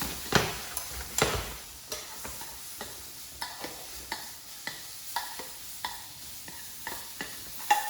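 Food fries in butter in a pan, a soft steady sizzle broken by regular scraping clicks as it is stirred or turned.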